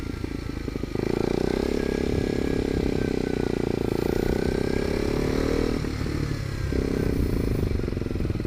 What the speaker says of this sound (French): Je sais pas si on entend bien les petites ruptures du pot.